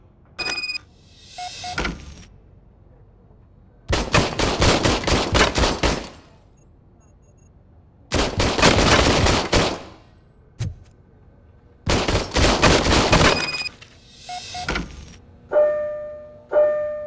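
Bursts of gunfire from an old service pistol in a Robocop video game, several loud clustered volleys lasting a couple of seconds each, separated by quiet gaps with small mechanical clicks.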